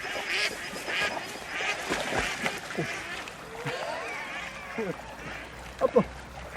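Ducks quack in short bursts outdoors during a field trial with Roussillon 2021 dogs, some calls louder and near, others distant, with people talking over the scene.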